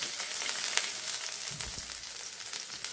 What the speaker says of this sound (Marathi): हे बघा जिरं मोहरी व्यवस्थित झालं की याच्यामध्ये ठेचलेलं लसूण टाकायचं।